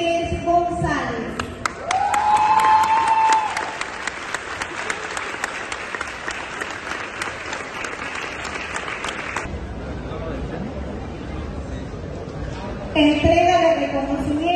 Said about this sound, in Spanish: le brindemos un fuerte y caluroso aplauso